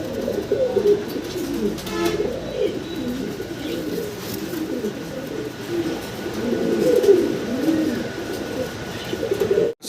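A male fancy pigeon coos loudly and continuously close by, its repeated rolling coos filling the clip with no talk over them.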